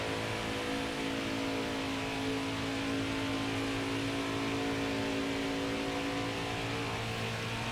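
Race car engines in the NASCAR Heat 5 video game, a Cup race at Homestead-Miami Speedway: a steady, sustained engine roar with a strong tonal drone, continuous and even, with no talk over it.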